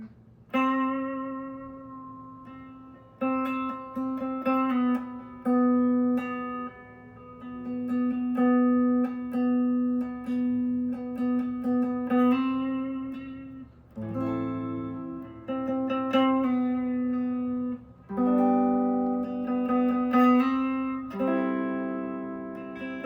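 A guitar plays a slow sequence of two-note intervals, each note ringing clearly and alternating back and forth between two chord shapes, with no voices.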